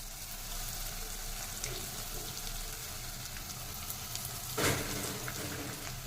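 Rice mixed with coriander, turmeric and grated raw mango frying in a pan for mango pulihora, a soft continuous sizzle with a brief louder clink of the utensil partway through.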